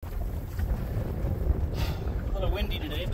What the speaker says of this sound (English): A little windy today, but not bad.